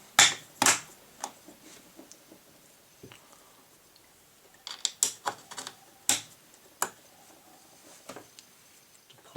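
Bolts pushed through while detail stripping a Browning FN BAR Match semi-automatic .308 Win rifle: sparse, close metallic clicks and small mechanical knocks, scattered individually and in short clusters over a quiet background.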